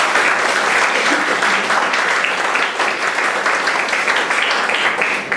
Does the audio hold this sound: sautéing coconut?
no